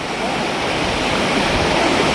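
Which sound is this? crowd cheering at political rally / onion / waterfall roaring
waterfall roaring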